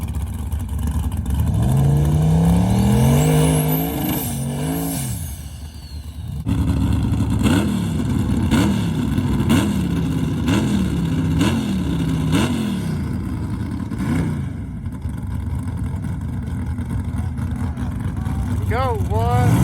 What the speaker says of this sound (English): Got a nitrous Chevy truck versus a turbo LS Nissan hard body.